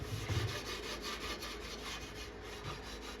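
Scuffing of an arcade cabinet panel by hand before spray painting, a steady close rasping rub that continues alone throughout, with slightly heavier strokes near the start.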